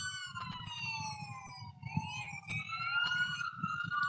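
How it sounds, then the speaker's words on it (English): Wailing police sirens in the distance, rising and falling tones overlapping, with a low rumble of traffic underneath. "Apologies for the sirens in the background."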